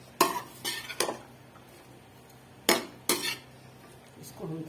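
A utensil scraping and clinking in a pan of frying onions for chicken jalfrezi, a few sharp separate stirs with quiet gaps between them, nearby and moderately loud.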